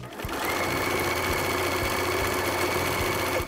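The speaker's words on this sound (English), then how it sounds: "So now I have zigzagged along the bottom edge" A sewing machine runs a zigzag stitch along the bottom edge of denim jeans, a continuous close mechanical whir with a fast ticking chatter lasting several seconds.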